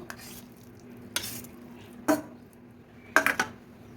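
A spoon stirs grated chitol fish into a mashed mixture in a pot, with three or four distinct clinks and scraping strokes spaced apart over a faint low hum.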